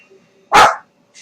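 A single sharp, loud dog bark bursts out close by in a quiet indoor setting, followed by a faint trailing sound.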